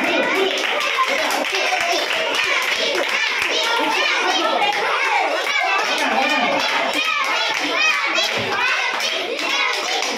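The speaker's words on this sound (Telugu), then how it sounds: "మ్యూజిక్ లేదు కాబట్టి చప్పట్లు కొట్టండి" Young children at an anganwadi clap their hands in a fast, continuous patter that stays steady and loud for the whole stretch, with kids' voices chattering and calling out among the claps.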